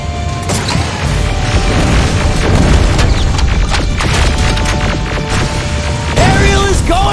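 Rocket blasts boom in the video game Terminator Resistance, loud overlapping explosions and crashes mixed with mechanical clatter and combat noise, continuous and close throughout.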